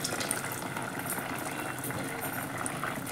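A tamarind curry with pepper-cumin paste bubbles at a steady boil in a pot. The churning, gurgling liquid stays close and even, with no voices.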